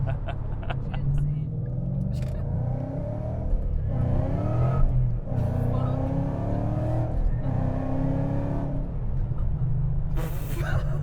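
A 2014 Mustang GT making about 600 wheel horsepower accelerates hard. Its engine roar climbs in pitch through several surges before easing off, loud and close, with someone talking over parts of it.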